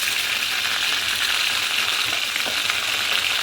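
Tomato and spices sizzling in oil with fried potato and aubergine, a loud steady close-up crackle with a faint scrape or two of stirring, and no talking.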